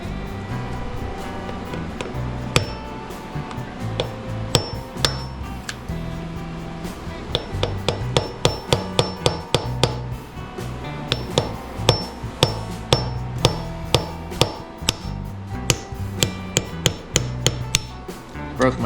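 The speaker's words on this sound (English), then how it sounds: "So I'm gonna start with my approach of trying to hit it at an angle and try to get that thing to see if I can get it to turn at all." Repeated metal-on-metal hammer strikes against a seized vintage Honda motor, hitting at an angle to free it; sharp irregular clanks ring out close and loud over a steady workshop rumble, coming in quick bursts.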